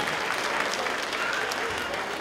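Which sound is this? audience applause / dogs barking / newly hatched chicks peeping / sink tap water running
audience applause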